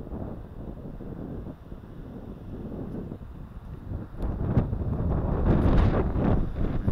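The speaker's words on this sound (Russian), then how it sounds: "Ветер, порыв просто ужасающий." Strong, gusty wind roars and buffets the microphone outdoors by the oldest building in Tallinn, Estonia, building louder toward the end, with no talking.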